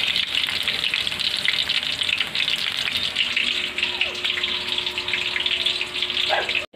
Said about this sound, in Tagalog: Ayan na guys, piniprito ko na.